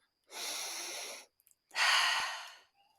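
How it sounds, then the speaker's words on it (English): Two long, deep breaths, each lasting about a second, with a quiet pause between them; close and steady, with no talking. "I invite you to just slow your breathing"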